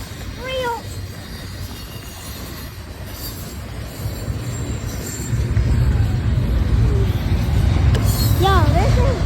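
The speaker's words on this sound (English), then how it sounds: "I finally chasing a freaking intermodal train." An intermodal freight train rolls past an S curve in Neenah, Wisconsin. The rail rumble is loud and steady and grows stronger, with squealing wheels at the start and end. A person speaks over it.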